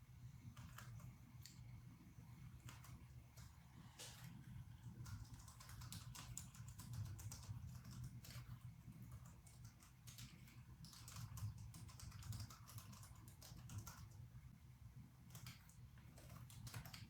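A computer keyboard being typed on steadily while coding: a fast, continuous run of faint, close key clicks, alone with no speech.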